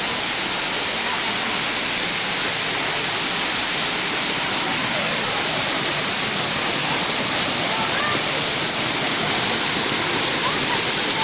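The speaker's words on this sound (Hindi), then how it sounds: "ये देखिए कितना खूबसूरत चश्मा और आबशार ऊपर से आ रहा है" A spring and waterfall near Mashhad pour down in a loud, steady, broadband rushing roar that holds unbroken throughout, close by and dominating, with a voice barely present beneath.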